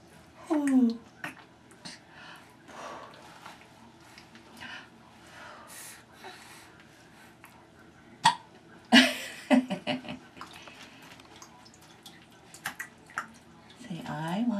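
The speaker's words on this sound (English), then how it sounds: "Oh, you have the hiccups." A baby hiccups during a bath, several short, sharp gulping catches scattered through the scene, mixed with soft splashing and an adult talking and cooing nearby.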